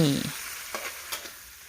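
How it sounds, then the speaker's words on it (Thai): Shrimp are stir-fried in a pan, giving a soft, steady sizzle with a few light scrapes and taps from the stirring, close up and without talking. "จากนั้นใส่กุ้งลงไปค่ะ ผัดให้ทั่วเลยนะคะ"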